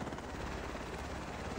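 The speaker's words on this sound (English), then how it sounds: "With the chopper heading out" A helicopter leaving a house fire scene gives a steady, dense rotor and engine roar, faint and distant, with no voices.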